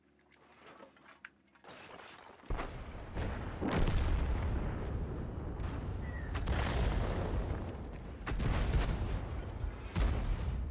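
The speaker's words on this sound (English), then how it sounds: "Artillery shell barely misses him." Artillery shell fire in a tank video game: several loud booming blasts land in quick succession over a continuous rumbling battle bed, with sharp bursts near the start, around the middle and toward the end.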